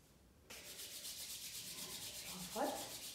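Hands rub back and forth across the forehead and chin in a steady, rhythmic stroking, a close, soft rasping of skin that starts abruptly and continues evenly, with no voice heard.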